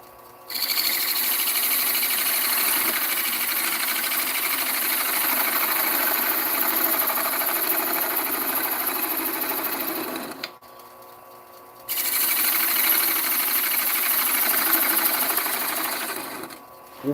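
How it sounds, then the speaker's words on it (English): Power drill fitted with a sponge disc, running loud and steady for about ten seconds, briefly stopping, then starting up again with the same continuous whirring buzz. "I need to get myself a sponge and a disc for the drill."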